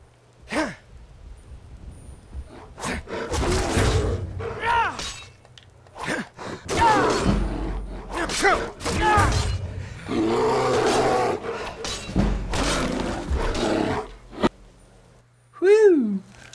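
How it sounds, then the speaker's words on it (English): A bear roars in the video game Skyrim, loud bursts of growling over a low steady hum, alongside other loud creature noises and someone talking in between. "We have bear trouble."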